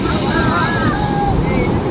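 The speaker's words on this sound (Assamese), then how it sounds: "আৰু চাওক এয়া পুৰা ঢেউ মাৰি আছে" Sea surf rolls onto a long urban beach in Chennai as a steady, loud wash of broken waves, mixed with wind buffeting on the microphone.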